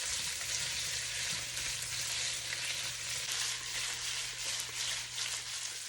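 Sausage fries in hot oil in a pan, giving a steady, close sizzle with a constant crackling hiss that runs unbroken throughout, and nobody speaks over it.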